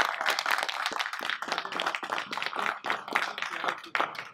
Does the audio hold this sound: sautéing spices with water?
no